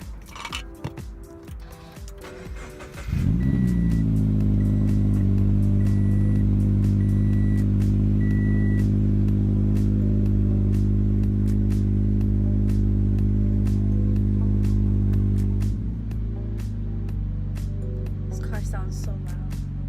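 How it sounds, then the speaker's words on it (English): A Subaru BRZ engine starts up and settles into a loud, steady idle with a deep rumble, then drops slightly lower near the end. "went ahead and turned on the car"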